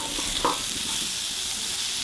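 Cauliflower, courgette, asparagus and spring onion sizzle in a pan with goose fat and a little chilli, a steady close frying hiss with a brief stirring clink and no talk.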